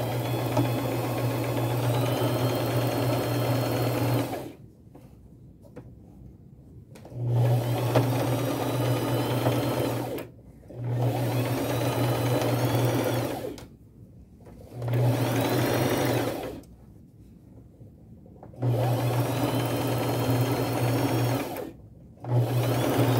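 A domestic sewing machine stitches vines onto a vintage lace scarf in several bursts of steady, close whirring, each run several seconds long and separated by short pauses.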